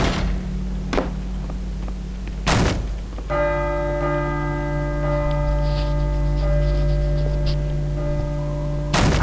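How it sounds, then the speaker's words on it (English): A church bell in the game Call of Cthulhu: Dark Corners of the Earth rings out loudly with long sustained tones over a low rumble, framed by a few heavy thuds at the start and end. "I should let the bell finish ringing first."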